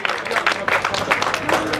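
Applause at a junior cycling race podium ceremony in Rome, a crowd clapping steadily at moderate distance for a couple of seconds, mixed with murmuring voices.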